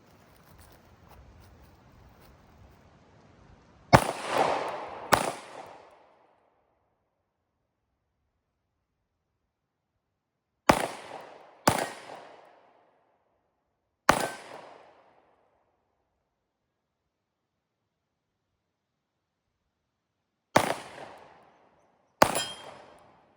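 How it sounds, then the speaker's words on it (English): Seven suppressed shots from an old SIG pistol ring out in uneven pairs and singles, each a sharp close crack with a short fading tail, separated by long silent gaps. "The old SIG, the one that won't randomly shoot you."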